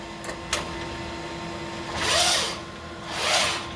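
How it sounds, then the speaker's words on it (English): A DEK Horizon stencil printer runs its stencil-cleaning cycle: a steady mechanical hum with two short clicks early on, then two rising-and-falling motor whirs as the cleaner travels in and back. "Now it's doing a clean cycle right now, where it comes up and gets the cleaner and brings it back, cleans the stencil, and then puts the cleaner away."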